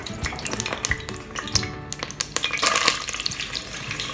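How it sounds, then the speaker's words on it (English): Oil heating in a frying pan for beef caldereta gives off a steady crackling sizzle with scattered pops and a few louder bursts, close by and with no talking over it. "I already heat the pan and then put some little bit of oil."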